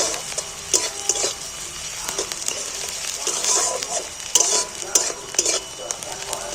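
Onions fry in a pan over a wood-fired stove, a steady sizzle broken by repeated scraping stirs and utensil clinks, close and moderately loud.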